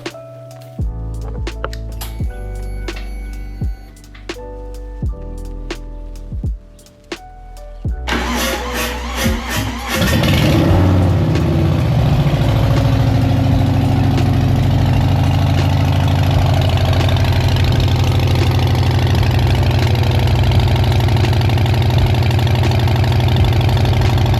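A Harley-Davidson FXLRS motorcycle engine cranks with a few sputters, then catches and settles into a steady, loud idle that rumbles on continuously.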